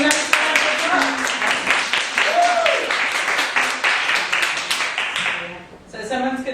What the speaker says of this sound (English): Let's give it a nice round of applause.